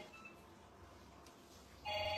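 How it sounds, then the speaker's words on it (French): A landline telephone starts ringing near the end, a loud bright electronic ring that cuts in abruptly over faint background hiss. "maintenant il appelle sur téléphone fixe"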